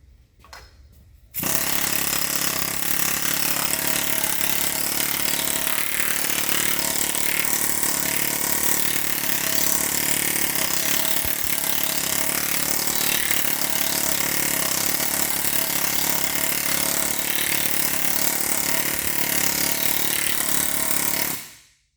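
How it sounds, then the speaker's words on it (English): A CP pneumatic planishing hammer pounds shrunk sheet metal in a loud, continuous, dense metallic rattle that starts abruptly after a brief quiet moment and holds steady for about twenty seconds with no talk. "What about we put it in the CP plenishing hammer"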